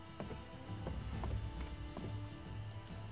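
Horse hooves clip-clop in a steady, repeated rhythm in the Western video game Gun, moderately close, with a faint background rumble and no voices.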